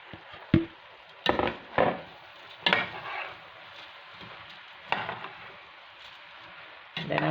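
Rice is stirred in a pot with a spoon, giving a handful of sharp scraping knocks spread irregularly over quiet kitchen background, close and fairly faint.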